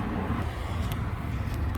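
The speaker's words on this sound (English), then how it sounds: "So I'm gonna turn on the car to see where the dipstick is" A 9th-generation Honda Civic engine runs at a steady idle close by, a continuous low hum with no talk.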